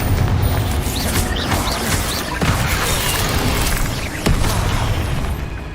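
Bombarda and Confringo spell blasts in Hogwarts Legacy land in quick succession, loud thudding booms and crunching bursts over a constant roar of battle, a couple of sharp hits punctuating the din.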